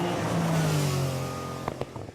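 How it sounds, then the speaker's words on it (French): A race car roars past during a motor race, its engine note sliding downward as it goes by, followed by a couple of short revving bursts, fairly loud and close. "Avec une splendide voiture, Jean-Pierre Lajournade reste dans le peloton de tête"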